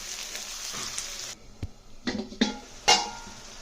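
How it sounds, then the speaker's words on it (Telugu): Washed dried fish dropped into a pan of fried onions, a steady sizzle that suddenly cuts off, then a few sharp clinks and scrapes of a utensil against the pan. "ఇప్పుడు ఉల్లిపాయలు ఇలా వేగినాయి కదా, దీనిలో మనం శుభ్రంగా కడుక్కొచ్చుకున్న ఎండు చేపలు వేసేద్దాం."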